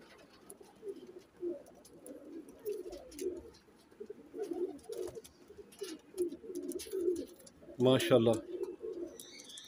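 A pair of Teddy golden pigeons, male and female, coo in repeated soft rolling phrases close by, with someone speaking briefly over them near the end.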